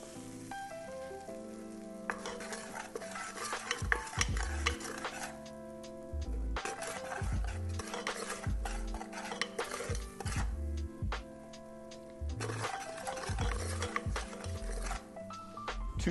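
Flour stirred into a pan for a pimiento mac and cheese sauce, with scraping and clinking of a utensil against the pan, soft sizzling underneath and intermittent tonal music playing in the background.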